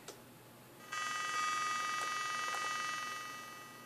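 A telephone ringing in a video game: a buzzy electronic ring tone starts abruptly after a short click and holds steady for a few seconds before easing off, heard alone at moderate level.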